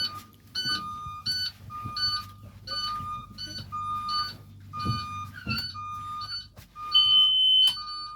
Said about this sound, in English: That beeping sound is the child safety check.